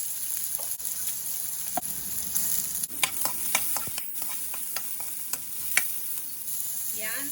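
Chopped onion and garlic sizzle steadily in hot cooking oil as a home cook starts a squash, string bean and shrimp coconut-milk stew, with scattered utensil clicks and scrapes from stirring in the pan.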